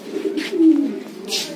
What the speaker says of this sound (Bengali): এখানে কিছু ফেন্সি কবুতর আছে, এখানে কয়েক জোড়া, যেরকম এই যে ব্ল্যাক সিরাজি আছে